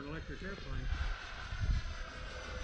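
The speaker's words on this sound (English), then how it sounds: "Wow, that's good for an electric airplane." Electric model airplane flying at half throttle with a steady, fairly faint motor drone in open air, while people talk nearby.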